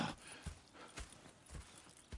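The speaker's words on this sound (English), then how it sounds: "Go check the horses are ready." Hooves clip-clop steadily at a walk in the video game Red Dead Redemption 2, a few horses moving close by in an even rhythm, with no talking.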